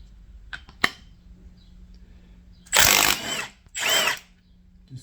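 Impact gun spinning out the bolt on a Toyota 1ZZ-FE VVTi cam gear, two loud whirring bursts of roughly a second each after a few faint clicks and taps.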